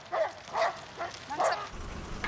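A working sheepdog named Hexe barks while herding a flock of sheep outdoors, four short yelping barks in quick succession over a steady background rumble, moderately distant.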